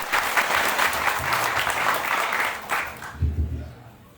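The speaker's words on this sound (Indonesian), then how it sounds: "Tepuk tangan untuk." An audience at a religious and national stage gathering claps steadily and fairly loudly for a few seconds, fading toward the end, with low murmurs underneath.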